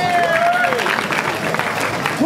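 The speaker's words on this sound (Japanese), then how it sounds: "もっと大きい拍手。" An audience at a B-Boy Park breakdance battle opening in Japan claps and cheers in sustained, dense applause, with a voice calling out over the crowd noise.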